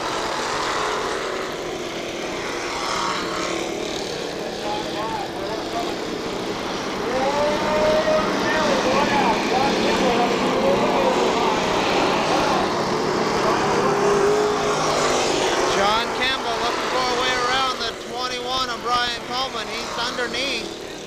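Pure stock race cars roar around the Kil-Kare Speedway oval in a steady, loud engine drone, with revs rising and falling as the pack passes, while an announcer talks throughout.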